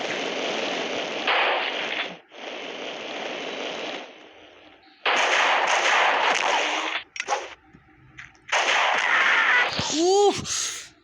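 Gunfire and bomb blasts in the mobile shooter game Mini Militia: loud bursts of shooting in long dense stretches, broken by short gaps, with a rising sweep near the end.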